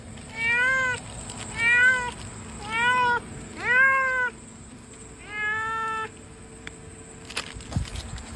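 A cat meows five times in a row, each cry drawn out and evenly spaced, close and clear, with faint background rustle and a brief knock near the end.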